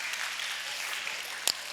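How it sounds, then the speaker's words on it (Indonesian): Applause from an audience at a storytelling workshop session, a steady faint patter of clapping throughout with a brief louder burst near the end. "Tepuk tangan ya."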